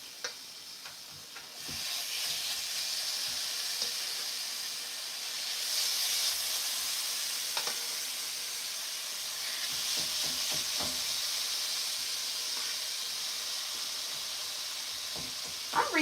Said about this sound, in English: It's a baby sizzle.